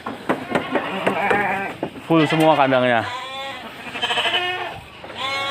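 Goats and sheep bleat from the pens of a large goat and sheep farm in former transmigration land at Rimbo Bujang, Indonesia. Several loud, wavering bleats overlap and repeat close by, with people talking throughout.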